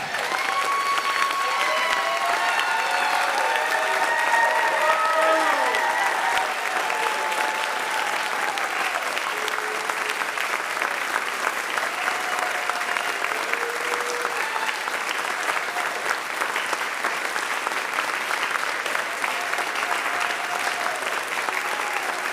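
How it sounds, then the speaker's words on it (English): A church congregation applauds at a Sunday service, sustained clapping from many hands that holds steady throughout, with a few scattered voices mixed into the crowd. "Let's give her a round of applause."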